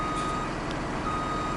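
Hook truck in Farming Simulator, a steady truck engine drone with a repeating reversing beep throughout, close and continuous with no talk.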